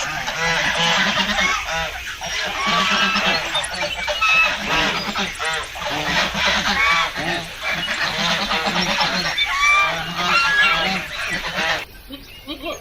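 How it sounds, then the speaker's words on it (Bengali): Farm geese honk loudly and repeatedly in a dense, overlapping chorus, with ducks and chickens also present, before the noise drops off near the end. "খামারে কিন্তু রাজহাঁস পালন করা হয় এইগুলো হচ্ছে রাজহাঁস"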